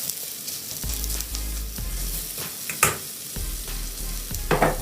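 Onions fry in peanut oil with a strong, close sizzle, broken by stirring scrapes and a few sharper clatters from the pan, and no voices over it.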